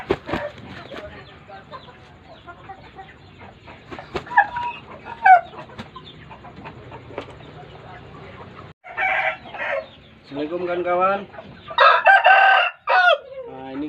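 A Pama breed rooster named Jack Sparrow clucks and crows in a coop, with scattered soft clucks and a man's greeting early on, then several loud, harsh crowing calls close by toward the end.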